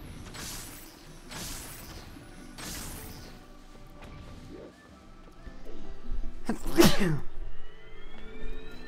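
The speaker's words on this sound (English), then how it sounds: "they replaced the sound of the chest spawning with a, a sneeze sound effect" In the Twilight Princess randomizer video game, a chest spawning plays a sneeze sound effect, a sudden sharp sneeze burst near the end after several softer rhythmic whooshes and mechanical clicks.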